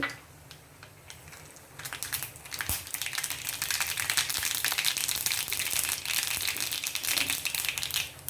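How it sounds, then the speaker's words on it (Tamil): Mustard seeds crackling and popping in hot oil, starting quiet and building into dense, continuous spluttering sizzle that lasts to the end. "இப்போ எண்ணெய் சுட்டுருச்சு கடுகு தளிச்சிக்கலாம்"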